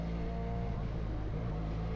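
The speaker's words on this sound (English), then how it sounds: "Exhaust sounds nice. At idle, sounds a little bit scooterish." A Harley-Davidson X500 motorcycle idles, its exhaust giving a steady, even low rumble at moderate distance.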